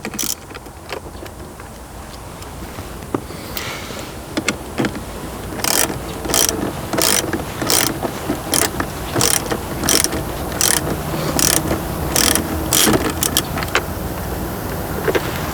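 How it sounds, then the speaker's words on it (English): A hand ratchet with a 10mm socket works bolts loose inside a Lexus GS center console, giving sharp, evenly spaced clicking bursts up close that grow louder and more regular toward the end, with no talking. "Use a 10mm socket to remove 2 bolts here."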